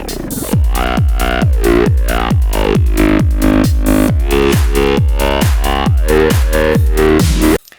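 Loud electronic dance music with a thick synth, steady punchy beat, ticking hi-hats and snappy clap hits, driving along until it cuts off abruptly.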